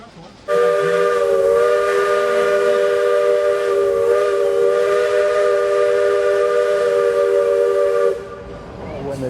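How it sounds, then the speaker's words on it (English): A steam train's whistle sounds as it runs through a redwood forest, one long sustained chord-like blast that starts abruptly, holds loud and steady for about eight seconds, then cuts off. "When the trains go through the redwoods, it's just beautiful."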